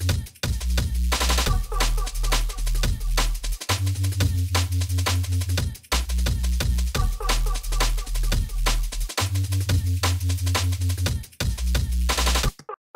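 A dusty drum and bass track pounds along with a fast chopped drum break, deep sub bass notes and hazy atmospheric texture, loud and dense throughout with brief dropouts between phrases.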